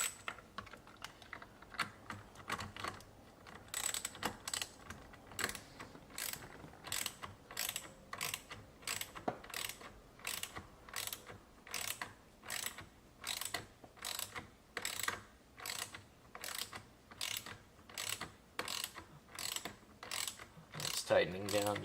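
Rapid ratchet clicks from tightening a steering wheel bolt on a Chevrolet Corvette C8, heard in a long series of evenly spaced bursts that start faint and grow more pronounced, close up with no talking.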